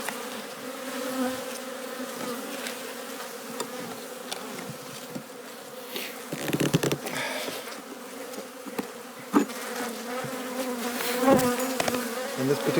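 Honey bees drone in a steady, dense buzz during a late-season hive inspection in Newfoundland, with a few louder bumps and handling knocks partway through and no voices.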